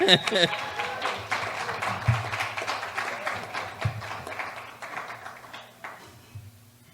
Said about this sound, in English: I do want to bring another applause for KJ Focus